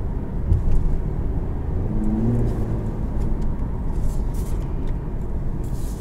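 Infiniti Q50S Red Sport with a 3-liter twin-turbo V6 cruising, heard from inside as a steady low engine and road drone, with a brief rise in tone partway through.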